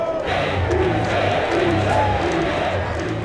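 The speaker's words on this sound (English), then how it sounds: "we've got large crowds, repeat, large crowds at the top of the west end of Newcastle Central Station" A large crowd of rival football fans gathers at the west end of Newcastle Central Station on derby day, sending up a dense, continuous roar of shouting and chanting voices.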